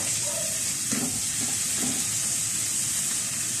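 Onions sautéing in oil over low heat for an adobong Baguio beans dish, giving a steady, soft, even sizzle from a nearby pan with a few faint clinks.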